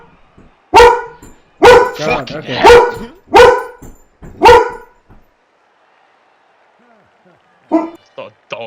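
A dog barks five times in a loud, close, evenly spaced series, then falls silent before a couple of shorter yelps near the end, with a man swearing in between.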